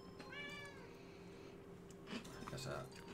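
A kitten gives a short, high meow near the start, followed later by faint movement and a quiet voice in a room.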